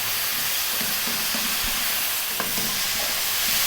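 Vegetables frying in a pan with a tablespoon of soy sauce, a loud, dense, continuous sizzle and hiss close up with faint stirring scrapes underneath, no talking.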